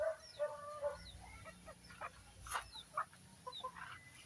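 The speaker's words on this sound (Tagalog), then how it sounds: "May malalaki na po ang ating mga alagang sisiw." Backyard chickens grown from chicks cluck and squawk in short scattered bursts, close by and fairly quiet, with no talking.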